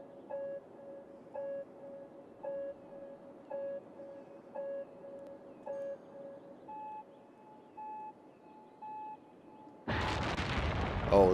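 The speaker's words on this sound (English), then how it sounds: "Who doesn't like a sudden launch of a big rocket?" A big rocket launching in the city-building game Cities: Skylines: a run of regular countdown beeps gives way to a sudden loud roaring blast that swells and continues to the end.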